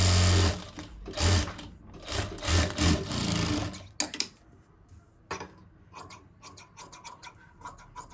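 A sewing machine stitches a sleeve-cut blouse in loud, rapid runs with short stops, followed by lighter ticking and rubbing handling sounds.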